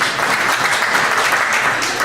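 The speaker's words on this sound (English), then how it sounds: "Round of applause if you have stupid friends" Comedy club audience clapping steadily throughout, a dense, loud wash of applause with no pauses and no voices on top.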